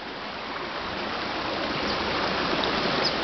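Water flows steadily along a riverbed, a constant soft, hissing rush with no breaks and no voices.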